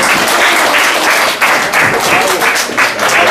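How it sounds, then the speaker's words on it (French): Crowd applause at a village festival election, loud close clapping from many hands with a few brief dips and swells, mixed with scattered voices. "Allez, on les applaudit encore"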